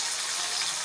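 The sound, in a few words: tamarind water being poured into a pan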